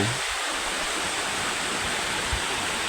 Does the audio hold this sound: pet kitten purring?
no